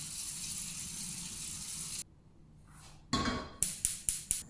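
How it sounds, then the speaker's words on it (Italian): Boiling water from candying orange peels is poured off in a broad rushing gush, then after a pause clean water splashes into the pot, followed by several sharp metallic clinks, close and fairly loud. "butto l'acqua, metto acqua pulita, la riporto a bollore"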